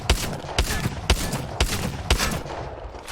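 Five evenly spaced booming blasts from an EVA-8 full-auto shotgun in the video game Apex Legends, firing at a steady rhythm about half a second apart, loud and close against a noisy background.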